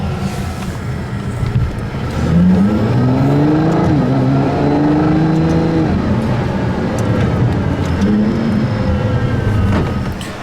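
The rear-mounted V12 of a Ferrari LaFerrari hypercar, a loud, sustained engine note that climbs and settles through shifting revs, heard close and steady for about ten seconds.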